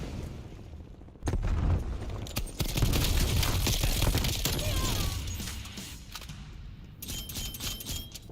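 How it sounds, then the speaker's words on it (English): An incendiary grenade thrown in a shooter video game: a loud burst at about 1.2 s swells into a sustained roaring fire and crackle that lasts several seconds, with other game sounds mixed in. "Throwing incendiary."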